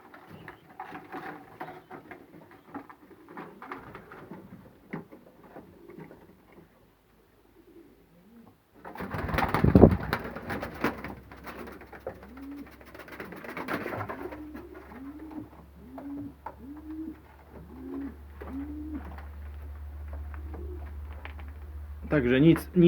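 Pigeons coo inside a pigeon loft, a run of soft rhythmic coos rising mid-clip alongside a sudden burst of rustling and low hum, with quiet sounds before and after.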